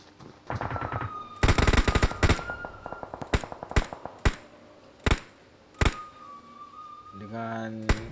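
Video game gunfire from a competitive squad scrim match: bursts of rapid automatic shots alternate with single sharp cracks, moderately loud, with a high whine and a brief electronic tone near the end.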